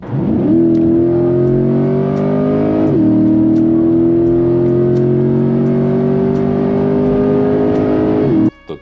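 A naturally aspirated V8 mounted behind the seats of a mid-engined supercar revs and holds a high, steady roar, dipping briefly mid-way before climbing again, then cutting off abruptly near the end.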